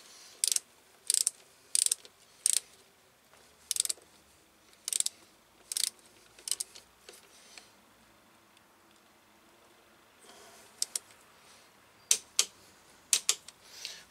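Torque wrench ratchet clicking while tightening the final drive of a BMW R1200RT motorcycle, sharp isolated clicks in irregular bursts and single ticks, close and clear with no talking.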